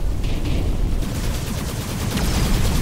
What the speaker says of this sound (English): Turrets are shooting me